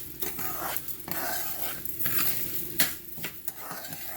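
Rice being stirred with oil in a pan, with a soft scraping and faint sizzle running steadily throughout, plus a few louder knocks of the utensil against the pan.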